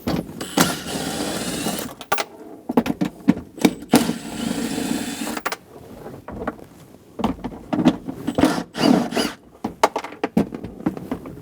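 Socket wrench with a 10mm socket loosening and removing four bolts from the center console of a 2003-2025 Chevrolet Express 2500 van, giving repeated close ratcheting bursts separated by brief pauses.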